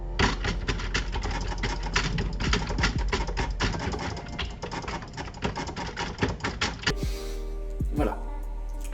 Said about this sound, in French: on entend mon clavier.